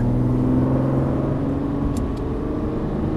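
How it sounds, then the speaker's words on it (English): Lamborghini Murciélago on a track, its engine rumbling and humming steadily as it pulls up through the gears, heard close from inside the car. "start working your accelerator, working our way up through the gears"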